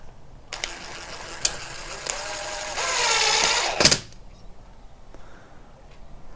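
Recoil starter on an Echo GT-225 string trimmer pulled by hand after a recoil replacement: a few light clicks, then a rising whirring rattle of the cord and pulley for about a second, ending in a sharp snap as it retracts.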